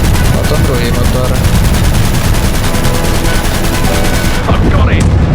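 Rapid machine-gun fire in the World War II flight game Aviators during a dogfight with a Junkers bomber, a loud continuous rattling burst that fills nearly the whole stretch before cutting off abruptly.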